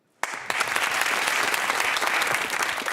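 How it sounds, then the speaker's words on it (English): Studio audience applauding on the Manchester v UCL round of a televised university quiz show, the clapping starting abruptly after a brief silence and holding as a dense, steady wash of many hands close by. "to see you applauding each other"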